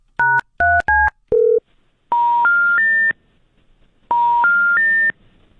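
A telephone dials a number: four quick touch-tone beeps, then a rising three-note intercept tone that plays twice after a pause, clear and close, with no talk.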